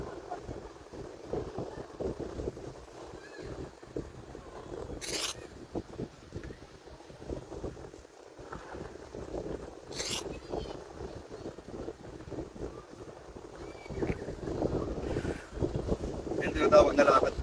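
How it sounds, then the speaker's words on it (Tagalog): Strong wind roars and buffets continuously against the microphone on a hanging bridge, with occasional sharp gusts and faint voices underneath. "Grabe yung hangin, ang lakas."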